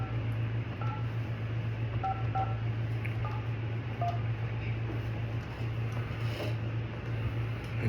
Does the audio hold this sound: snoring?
no